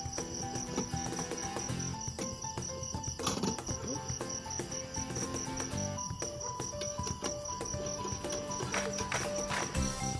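Dense chorus of crickets and other night insects chirping steadily around a lit Coleman Northstar gas lantern outdoors, high trilling pulses layered continuously, with faint scattered rustling and no talking.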